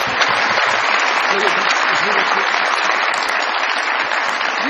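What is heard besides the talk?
studio audience applause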